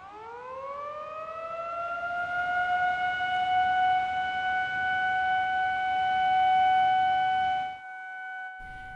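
A civil defense siren wails at a memorial for the victims of a debris-flow disaster near an elementary school. The steady tone rises, holds for several seconds from a distance, then cuts off abruptly.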